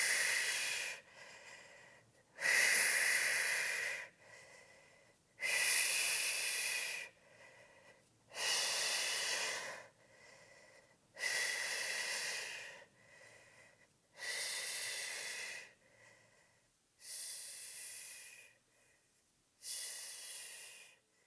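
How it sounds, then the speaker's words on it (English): Deep rhythmic breaths during a postpartum core strengthening workout, about eight loud hissing exhales alternating with softer inhales at a steady pace, close to the microphone with no talking. "Exhale to lift, inhale to lower down."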